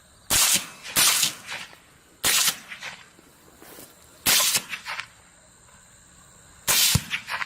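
Four loud, close rifle shots at feral hogs on farmland at night, each a sharp crack followed by a brief rolling echo, spaced a couple of seconds apart with quiet between.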